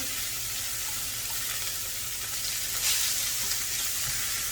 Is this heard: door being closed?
no